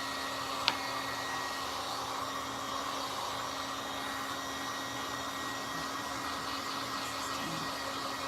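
A hair dryer runs steadily for the whole stretch, drying paint on an old silver tray: a constant close, even blowing whir with a low hum and one brief click near the start.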